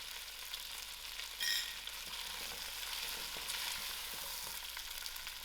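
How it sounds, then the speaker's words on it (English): Spicy ostrich goulash gets stirred in a pot with salt, a soft continuous sizzle under occasional light scraping of a spoon, fairly quiet and steady throughout. "I'm going to give this a nice mix."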